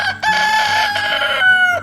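A rooster named Peter gives one loud, close crow, a drawn-out cock-a-doodle-doo under two seconds long that rises and then falls away, with no talking over it.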